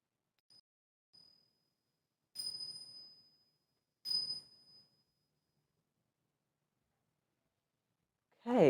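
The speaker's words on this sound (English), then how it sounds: "I'm just going to ring some bells just to denote the end of the exercise." Small bells chime at the close of a mindfulness exercise: a couple of soft pings, then two clear ringing strikes that decay slowly in a quiet room, before a voice begins at the very end.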